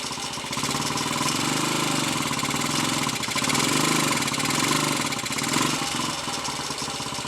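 A Royal Enfield 250 five-speed motorcycle engine, which has a problem with third gear, runs loaded in fourth and fifth gear as a continuous loud, close, rapid thumping drone with a slight swell partway through and no voices.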